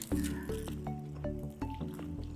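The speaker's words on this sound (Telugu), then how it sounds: "కొద్దిగా లైట్గా వాటర్ వేసుకొని కలుపుకోవాలన్నమాట" Water trickles into a quail-fry batter made with egg whites and is mixed in, giving soft wet squishes and small pouring drips close by, with faint ringing tones from the bowl.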